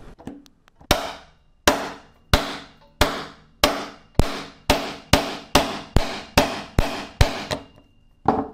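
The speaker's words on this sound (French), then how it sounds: "On active donc la fonction tournevis à frapper en déverrouillant le cadenas." A Wera Kraftform Kompakt 900 impact screwdriver, set in striking mode with a PH3 bit, is hit by a hammer about a dozen times in a steady rhythm, each sharp close metallic strike ringing briefly.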